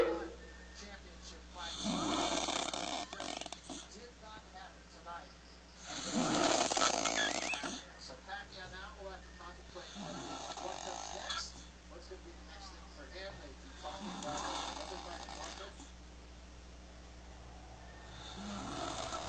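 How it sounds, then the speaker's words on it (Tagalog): A construction worker snores loudly while sleeping, several long rasping inhalations in a slow repeating rhythm, close and prominent over a steady low hum. "lalong lumakas yung hilik"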